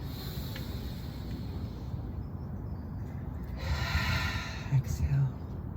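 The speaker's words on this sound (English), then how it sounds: "Let's take a couple of good inhales and exhales together" A group breathes deeply together in unison: soft airy inhales give way to a louder, broad rushing exhale near the end, with breathy snort-like bursts as the breath is released.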